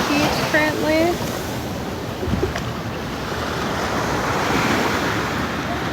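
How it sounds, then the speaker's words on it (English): Ocean surf breaking at a beach in Honolulu, Hawaii, a steady broad wash of waves with wind buffeting the microphone, and a few brief voice-like tones early on. "Here in Honolulu at the beach currently."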